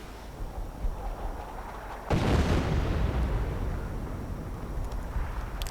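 A heavy American artillery blast in a strategy video game erupts suddenly and rolls into a long, rumbling wash of debris and noise that slowly fades.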